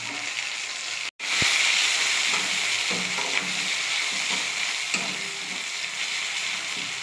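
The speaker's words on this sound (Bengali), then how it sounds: "একটা পেঁয়াজ কুচি এর মধ্যে দিয়ে সাঁতলিয়ে নেব" Chopped onion sautés in hot oil with whole cumin, garam masala and a bay leaf, a steady loud sizzle after a brief drop at the start, with a few soft stirring scrapes and no voices.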